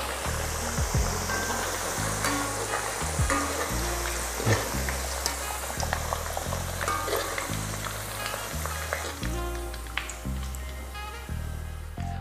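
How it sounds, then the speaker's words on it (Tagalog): Potatoes for beef caldereta fry in oil in a pan with a steady, dense sizzle while they are stirred now and then, with scraping and clinks, close and continuous. "Lutuin lang natin ito hanggang sa mag-start ng mag-brown yung patatas."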